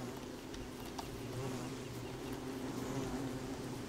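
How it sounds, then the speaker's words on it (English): Buzzing bees in the survival game Don't Starve: Reign of Giants form a faint, continuous droning hum that persists without pause under quiet background sound. "Juking around the bees here."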